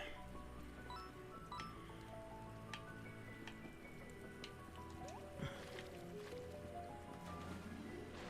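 Deep water sloshing in the video game Escape From Ever After, a steady liquid splashing and dripping bed that lasts throughout with game music over it.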